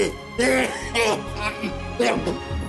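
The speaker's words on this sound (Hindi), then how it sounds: "ये खांसी भी ना मेरे साथ ही जाएगी।" A person coughs several times in harsh, rough bursts, close by, mixed with strained throat sounds.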